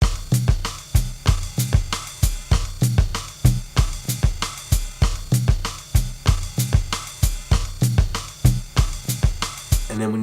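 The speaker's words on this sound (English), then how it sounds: "I found this very simple Latin kind of drum loop that I thought went really well with the drums" A simple Latin drum loop from Logic's loop library, used in a hip-hop beat, repeats a steady, even pattern of sharp percussive hits at close range with no talking.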